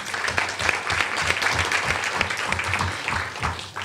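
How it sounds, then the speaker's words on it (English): Audience applause at a Florida Film Festival panel on women in the film industry, a dense, steady round of clapping from a crowd, sustained evenly throughout without speech. "So everybody give a big round of applause for Brooke"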